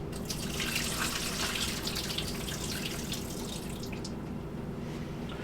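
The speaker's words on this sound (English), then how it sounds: "Drain the water off." Water poured off a cooking pot of boiled potatoes into a sink, a steady splashing gush that stays close and fairly quiet, then eases slightly near the end.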